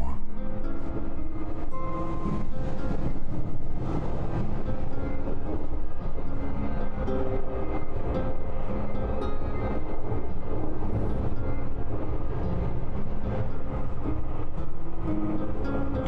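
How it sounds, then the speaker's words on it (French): A passenger train heading toward Seville rumbles with a steady low roar and rattle heard from inside the carriage throughout, with a faint voice murmuring underneath. "Je me réveille dans le train vers Séville."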